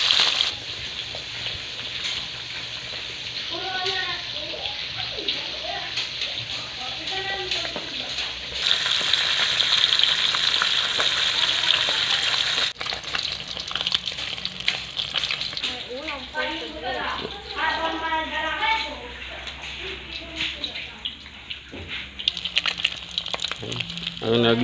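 Cleaned catfish sizzles and crackles in hot oil in a pan, a steady frying hiss running throughout with occasional stirring, while people talk over it at intervals.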